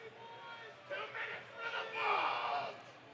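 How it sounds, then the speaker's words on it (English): Hockey fans in a college arena during a Clemson–South Carolina game, a rowdy crowd swelling into a mid-distance chant and roar that builds toward the end. "The crowd getting a little into it."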